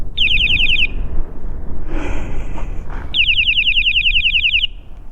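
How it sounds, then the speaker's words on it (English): A very loud, shrill 140-decibel electronic e-bike horn blares in two long pulsing bursts, with a short gap between them and steady rushing background noise. "I've got the world's loudest bicycle horn, 140 decibels."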